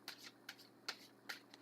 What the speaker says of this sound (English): There, we give these another good shuffle.